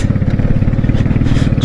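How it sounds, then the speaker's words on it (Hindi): A motorbike in first gear labours over rocks at a high mountain pass, its engine thumping in a fast, pulsing beat, loud and close, with slight clatter from the rough ground. "पहले गेयर में बाइक अपना फुल जोर लगाते हुए उछल भी रही है पत्थरों पर से।"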